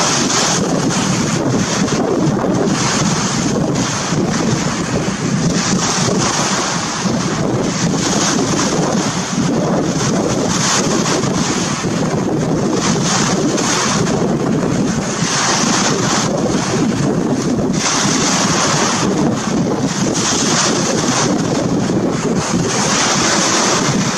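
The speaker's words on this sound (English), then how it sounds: "Unfortunately, it's very windy right now, so I don't even know if you can hear me well." Strong wind at the seashore roars and buffets continuously over the constant wash of surf, loud and unbroken throughout, with no one speaking.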